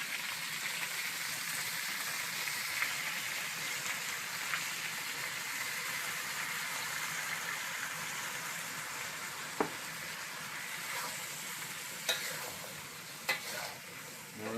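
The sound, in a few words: pepper-glazed hot wings sizzling in campfire skillet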